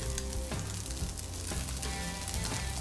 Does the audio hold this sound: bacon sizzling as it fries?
yes